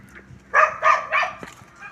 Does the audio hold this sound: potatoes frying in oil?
no